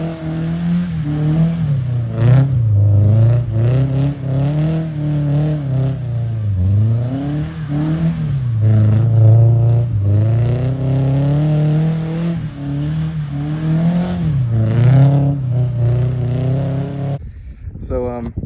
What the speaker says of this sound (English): I do have an HKS sport exhaust from the cat back.